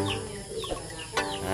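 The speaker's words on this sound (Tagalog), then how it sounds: "Maraming manok na alaga nila mama o." Chickens raised at a rural family home in the Philippines, soft clucks and short calls scattered through a cool outdoor scene, moderately close with steady background ambience and no talk.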